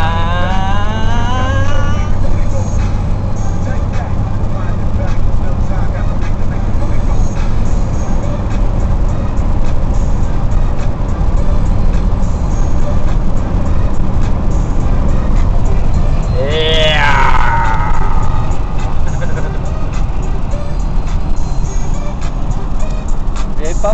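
A car driving on the road with a constant loud engine and road rumble inside the cabin, and voices talking over it throughout.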